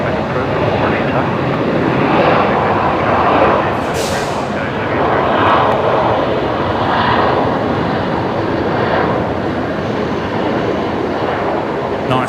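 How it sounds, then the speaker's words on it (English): A Qantas Boeing 737 jet roars with reverse thrust on landing at Brisbane Airport at night, a loud sustained rumble with a brief hiss near four seconds, while voices talk over it. "Nice bit of reverse thrust action there from the Qantas 73"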